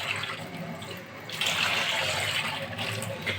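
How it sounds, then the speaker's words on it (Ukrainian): A tap runs steadily, cold water gushing into a container over cleaning solution for washing a rabbit cage, growing a little louder and fuller partway through. "Далі ми уляли засіб і набираємо холодну воду."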